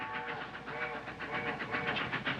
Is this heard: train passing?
yes